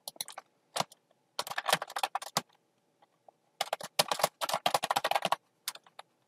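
Typing on a computer keyboard, close and crisp, with quick bursts of keystrokes separated by short pauses and no talking.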